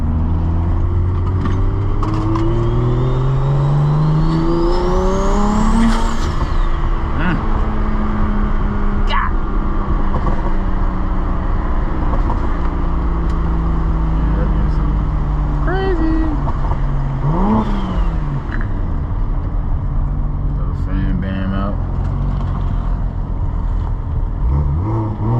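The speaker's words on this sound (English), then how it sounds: "Turbo sound crazy." BMW car with a turbo engine accelerating, heard from a GoPro point of view: a loud, continuous engine roar with rising and falling pitch sweeps as it revs through gears, with voices talking over it.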